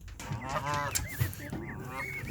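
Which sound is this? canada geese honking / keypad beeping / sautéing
canada geese honking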